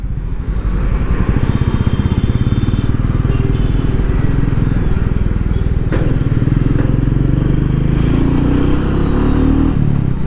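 A Royal Enfield Meteor 350 motorcycle rides through traffic, its single-cylinder engine throbbing steadily and close throughout, with a brief rise in revs partway through and no clear speech.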